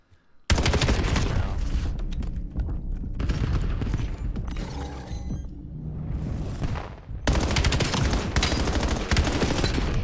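Paintball guns firing during a tournament match, a dense, continuous barrage of rapid pops from several markers at once, loud and sustained with only a brief lull.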